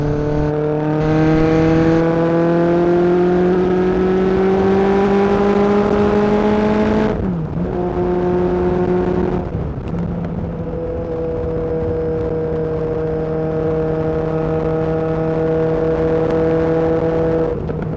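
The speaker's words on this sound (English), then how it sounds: "It does sound bloody good, this bike." A classic Honda CB900F motorcycle engine under way, loud and close, its steady drone rising in pitch through the gears with two brief dips at shifts before settling into a sustained cruise, with wind rushing alongside.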